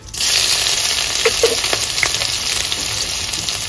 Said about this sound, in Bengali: এখানে আমি যে কাঁচা লঙ্কাটা নিয়েছিলাম দিয়ে দেবো সেই কাঁচা লঙ্কা কুচি